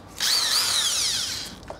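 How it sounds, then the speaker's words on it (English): A handheld power drill spins up and runs at speed with a whining, slightly wavering motor tone, then winds down, close and clear with no talking. "Okay, I've got my drill."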